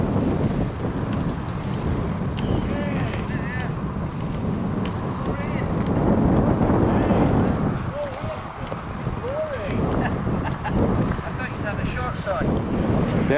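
A water taxi boat arrives near a golf club, its engine a low rumble blended with wind buffeting the microphone and splashing water, while people talk over it throughout.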